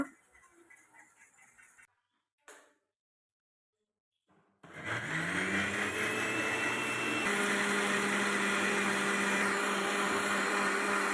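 A mixer grinder whirs loud and steady, grinding roasted coconut with water in its jar, starting after a few brief clatters and gaps and running on without a break.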